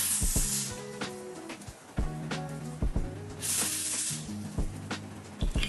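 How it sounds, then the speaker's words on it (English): Hairspray hisses onto the hair and lace of an ash blonde body wave wig in several short bursts, close and fairly soft, mixed with light handling noises. "I feel like I sprayed too much into the hair."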